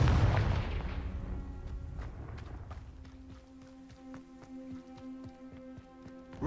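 A Confringo spell blast in a Harry Potter video game goes off as a heavy booming explosion that rumbles away over a couple of seconds, then gives way to faint game sounds and light footsteps.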